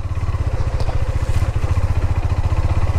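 A KTM Duke 390 motorcycle rides off-road with a loud, close engine that throbs in rapid, regular pulses and carries some light clatter, with no voices.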